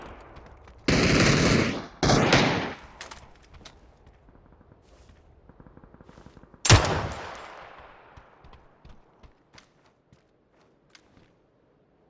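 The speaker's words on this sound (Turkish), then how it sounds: "iki mermi atıyor daha görünmüyor" Gunfire in the battle royale game PUBG: two loud, sharp bursts close together early on, then a single heavy crack later that fades into a long tail, with faint clicks and footsteps in between.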